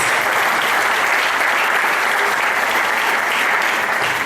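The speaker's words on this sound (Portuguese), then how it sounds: "Vamos aplaudir o Senhor por essa aula, amém?" A church congregation at a Bible school class breaks into loud, sustained applause, a thick continuous wash of clapping that holds steady from start to finish with no voices on top.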